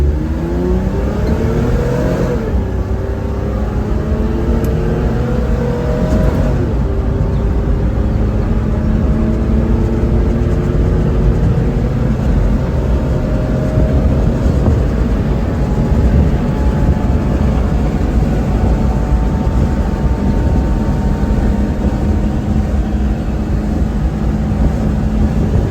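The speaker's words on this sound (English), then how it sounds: "This is an acceleration test with power mode on." An automatic kei truck in power mode accelerates hard, its small engine rising steadily in pitch through shifts, loud and close from inside the cab, with steady road and wind noise throughout and no talking.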